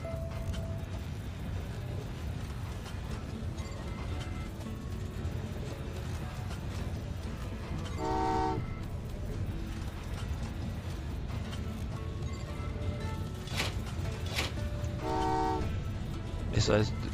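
A polymer train running in the Train Valley 2 video game, a steady mechanical rolling rumble throughout with two short tonal horn toots, one near the middle and one near the end.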